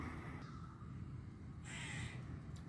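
A vast flock of crows and other corvids, some 25,000 birds, streams directly overhead, with harsh caws rising in bursts over a steady rustling wash of distant calls.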